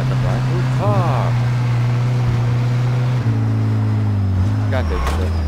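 A car engine drones steadily while driving in Mafia II, its low hum shifting pitch as the vehicle speeds up and slows, with brief speech over the top.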